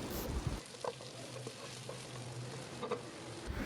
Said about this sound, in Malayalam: വെളുത്തുള്ളിയുടെ നിറമൊക്കെ ഒന്ന് മാറി വരുന്ന സമയത്ത് ചെറുതായിട്ട് അരിഞ്ഞ സവാള 2 എണ്ണം ഇതിൻ്റെ അകത്തേക്ക് ഇട്ട് കൊടുക്കാം.